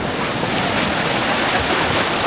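Ocean waves and surf near a boarding point for whale shark watching at Oslob, a continuous loud wash of water with steady broadband roar and some wind, no voices.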